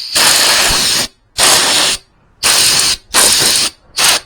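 An air compressor gun blows out a scooter air filter in five loud, close hissing blasts of about half a second to a second each, separated by short silent gaps.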